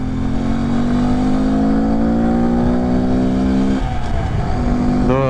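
A Honda Grom motorcycle carrying a passenger accelerates hard, its small engine rising steadily in pitch, a brief shift, then climbing again, loud and close.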